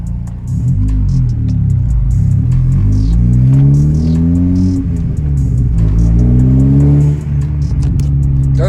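Honda Civic Si on a drive around the block with fresh NGK spark plugs, its engine note loud and continuous as it climbs and shifts through rising revs, with no talk over it.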